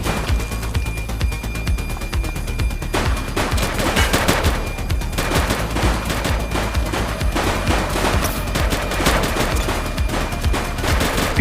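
A police shootout in The Precinct video game erupts in sustained gunfire, rapid bursts and single shots crackling densely and continuously throughout, loud and close with no pauses.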